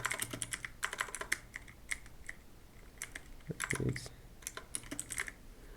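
Keys on a computer keyboard are tapped in quick, irregular bursts of clicks, fairly quiet and close, with a brief soft thump partway through.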